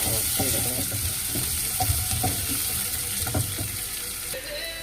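Food fries in a pan until reddish, a continuous sizzle with scattered clicks and light scraping, moderately loud and close, no talking.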